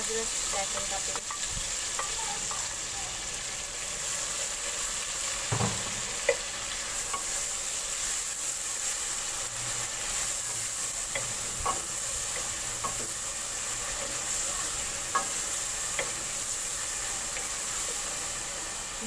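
Ginger garlic paste fries in a pan with a steady close sizzle, broken by occasional scraping and clinking strokes as it is stirred.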